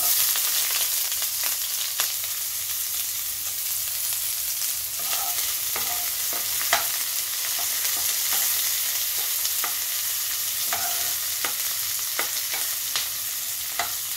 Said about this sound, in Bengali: তেলটা গরম হয়ে গিয়েছে, এবার আমি দিয়ে দিলাম কিছুটা পেঁয়াজ কুচি।